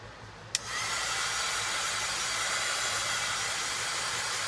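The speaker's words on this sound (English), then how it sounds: "I'm going to grab my heat tool" A handheld heat tool switches on with a click and then blows a steady, loud rush of hot air to dry craft work, continuing unbroken with no talking.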